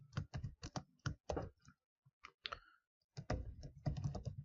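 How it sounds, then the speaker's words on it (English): Fast keyboard typing in quick bursts of clicks, a short pause in the middle, then another dense run of keystrokes, close and clear. "you can definitely go ahead and hard code it by typing the values here like this"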